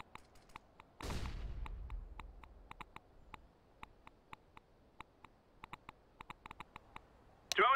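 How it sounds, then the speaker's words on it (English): A flashbang grenade goes off in a CS:GO hvh match: one loud, close blast just after the first second, trailing into a fading low rumble. Sparse sharp clicks tick around it, and another abrupt hit lands at the very end. "Flashbang."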